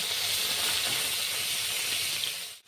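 Steady, loud hissing sizzle of fish heads and fish frying in hot mustard oil, continuous and close, with no talking.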